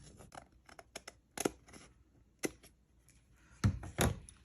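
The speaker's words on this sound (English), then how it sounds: "you'll have to do a little bit of trimming like I am right here" Scissors trim the edges of a paper bag for a foldout folder, giving a few separate close snips and paper rustles with quiet gaps between them.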